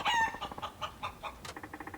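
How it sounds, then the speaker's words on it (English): Chicken clucking in the video game Yakuza 5, a run of close, rapid clucks and squawks in an uneven rhythm with no talk. "What is that, a chicken?"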